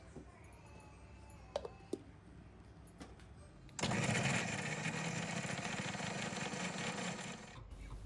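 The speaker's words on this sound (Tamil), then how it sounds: "இதையுமே நல்லா அரைச்சி எடுத்துக்கோங்க." A mixer grinder blends soaked Kashmiri chillies into paste. After a few light clicks and knocks it starts with a loud, steady whirring roar that runs for about four seconds and then stops abruptly.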